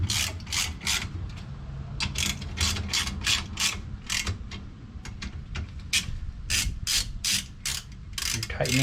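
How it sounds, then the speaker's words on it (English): Ratchet wrench clicking in quick repeated bursts while tightening suspension bolts into aluminum on a Porsche 911 rear trailing arm, close and steady, with brief pauses between strokes. "You're tightening into aluminum, so you don't need to torque them very high."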